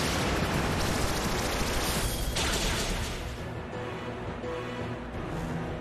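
A Dragon Pulse attack in a monster-battling video game roars as one dense, sustained blast that stays loud and steady for several seconds, then eases slightly toward the end, with no talking.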